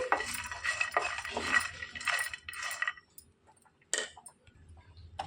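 Peanuts and coriander seeds roast dry in a pan over a low flame, with bursts of light rattling, ticking and scraping as they are stirred, then a pause and one more short scrape, and no talking.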